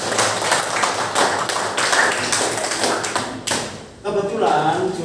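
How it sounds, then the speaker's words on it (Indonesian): An audience bursts into clapping applause at a school group presentation, dense and fairly loud, then a brief dip before the clapping picks up again while a voice talks over the end. "Beri tepuk tangan dulu untuk"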